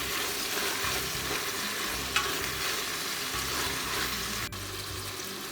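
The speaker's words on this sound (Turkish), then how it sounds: "fasulyelerimizi kavuruyoruz" Steady sizzling of green beans sautéing in hot olive oil, a continuous crackling hiss with occasional stirring clinks, close up and no talking.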